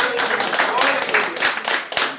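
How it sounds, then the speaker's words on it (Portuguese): A church congregation claps loudly for Jesus during a Portuguese-language service, with sharp, brisk hand claps mixed with raised voices calling out over them. "Dê uma salva de palmas bem forte para Jesus."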